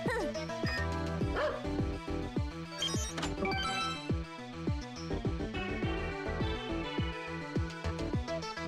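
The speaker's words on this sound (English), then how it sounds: "Maybe we'll try the dog this time." A dog in a video game barks and yips repeatedly in short bursts, mixed with game music and voices.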